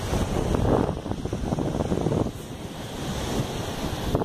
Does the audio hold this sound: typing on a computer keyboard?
no